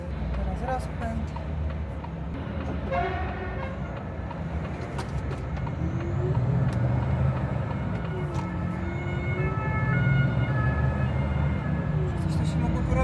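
An ambulance siren passes on a road, a wavering wail heard from inside a travelling vehicle under steady road rumble, while a person talks over it.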